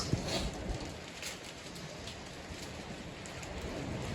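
Steady monsoon rain falls in a dense, even hiss with scattered drops, unbroken and fairly close throughout.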